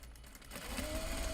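A serger running steadily through a grime guard hem, starting around halfway in with a continuous mechanical whir that stays even and close, alone with no talking.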